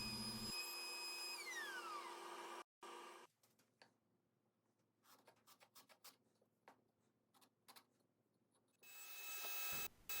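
Wooden mallet being hand-sanded at the final grit, sped up, producing quick faint scratchy rubbing strokes in a loose rhythm, bracketed by louder tonal sweeps at the start and end.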